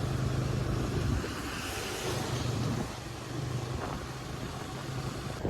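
A car driving at night in heavy rain, steady broadband road and rain noise with a low engine hum running continuously throughout, no voices.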